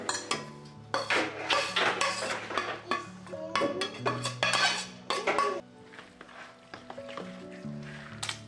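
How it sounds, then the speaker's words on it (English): Repeated clinking and scraping of a utensil in a bowl as ground beef, eggs, dill, cilantro, sautéed green onion and red peppers are mixed together, in uneven bursts close to the microphone. "Give it a good mix."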